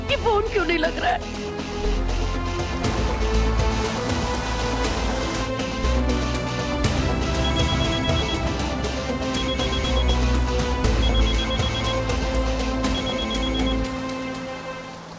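Telephone ringing in a Hindi television drama scene, repeated ring tones sounding at a steady rhythm over a dense, continuous background for about fifteen seconds.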